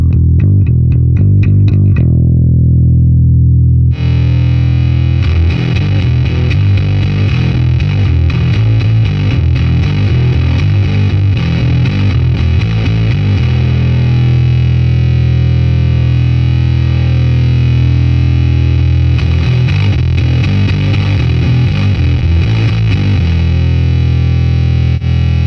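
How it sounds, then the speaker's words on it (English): An electric bass runs through the Atomic Bass Box preamp pedal with overdrive engaged, producing a loud, heavily distorted and thick sustained tone with gritty attacks, after a brief cleaner opening note. "it has a 3-way toggle switch that you can select the type of overdrive that you want for your sound"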